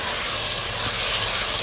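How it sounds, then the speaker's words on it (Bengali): Ginger and garlic hit browned onions frying in a clay pot for village-style mutton, giving a dense, steady, loud sizzle and hiss that fills the whole stretch with no pause. "এবার আদা আর রসুন দিয়ে দেবো।"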